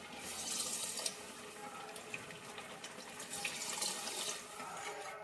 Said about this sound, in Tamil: இப்போ இன்னும் எக்ஸ்ட்ரா 2 கப் தண்ணி வந்து ஊற்றிடணும்.